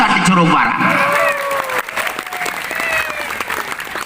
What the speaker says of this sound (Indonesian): Tepuk tangan untuk Ustadz-Ustadz di Curug Barang.